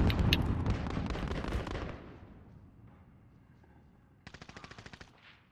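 Rapid automatic gunfire from a gun in a first-person shooter video game rattles loudly for about two seconds and fades, then a second short, fast burst follows near the end.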